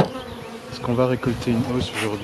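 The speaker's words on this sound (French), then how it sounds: "les abeilles, ça rentre, ça sort" Bees buzz steadily around a hive, a continuous drone under a person speaking close by.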